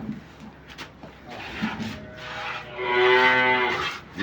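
A cow at a Dinajpur cattle sale lets out a loud, drawn-out moo that swells in the second half, near the microphone, following quieter grunts and shuffling.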